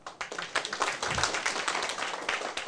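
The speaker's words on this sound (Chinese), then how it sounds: "拍手。" An audience at a lecture breaks into a brief round of hand clapping, with scattered sharp claps swelling into a short burst of applause, fairly close, with a faint voice underneath.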